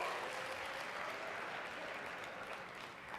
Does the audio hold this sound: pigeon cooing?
no